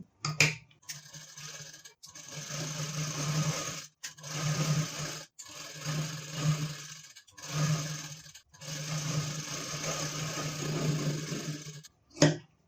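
Close, repeated bursts of sewing machine stitching lay a double seam while a gown is taken in for a better fit, each run a few seconds long and separated by short pauses, with sharp clicks at the start and end.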